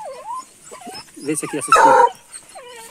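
Hunting dogs yelp, whimper and bark excitedly at a paca holed up in its burrow, close and intermittent, while someone talks over them.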